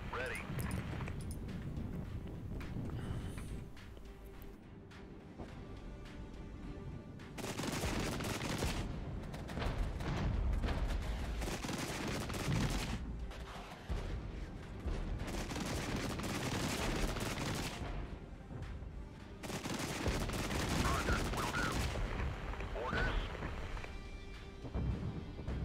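Gunfire and artillery from the real-time strategy video game Regiments roll in heavy repeated bursts, dense crackling volleys and booming blasts alternating with brief quieter gaps.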